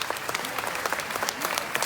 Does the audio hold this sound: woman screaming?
no